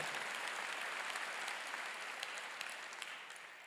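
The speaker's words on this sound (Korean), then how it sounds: "박수." Congregation applause at a church graduation worship service, a steady wash of many hands clapping that holds at an even level for the whole stretch and eases slightly toward the end, with no voices over it.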